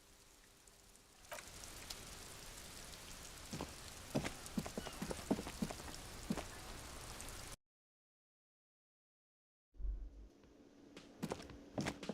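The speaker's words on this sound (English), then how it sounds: "This rain will not let up anytime soon." Rain falls steadily in the video game Disco Elysium, a dense hiss with scattered sharper drops and a few footstep-like taps. It cuts to near silence partway through, then returns more faintly with a few clicks.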